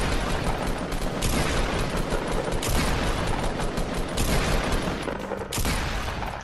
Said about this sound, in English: Now you get all your ammo and you shoot it off into the distance at that other island